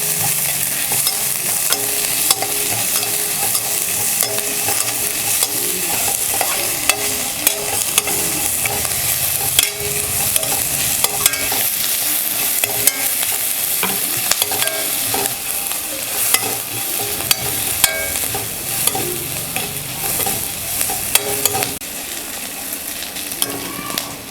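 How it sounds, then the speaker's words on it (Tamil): A large chopped onion sautés in a pan for a quick sambar, giving a close, loud, continuous sizzle broken by frequent spatula scrapes and knocks against the pan, with no voices. "இப்போ நான் வந்து ஒரு பெரிய வெங்காயத்தை நம்ம சேர்த்துக்கிறோம். இப்போ இது நல்லா வதங்கட்டும்."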